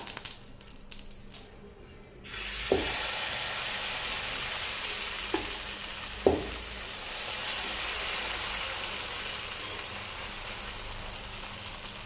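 Adai batter, made without rice, rava or urad dal, sizzles on an oiled hot tawa. A steady frying hiss starts after a few quiet seconds and runs on evenly, with a few faint clicks.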